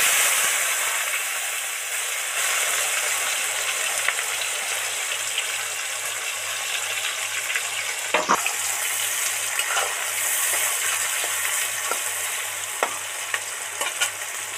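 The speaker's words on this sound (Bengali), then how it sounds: "এবার হচ্ছে পেঁয়াজ আর টমেটোটা এর মধ্যে ছেড়ে দেব।" Onion and tomato frying in hot oil for a village-style Bengali chicken and potato curry, a loud continuous sizzle with stirring scrapes and spatula knocks throughout.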